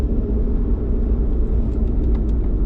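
Steady low road rumble inside the cabin of a New Edge Ford Mustang S95 cruising at highway speed, a constant droning roar of tire and engine noise with no talking.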